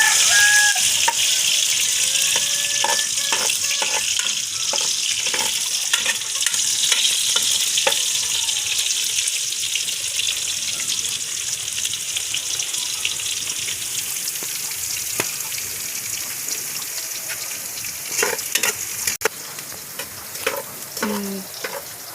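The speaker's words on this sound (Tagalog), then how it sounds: "Guys, you put the garlic and the onion now because the oil is already hot." Garlic and onion fry in hot oil in a village kitchen, giving a steady loud sizzle with scattered stirring scrapes and clinks throughout, no one talking.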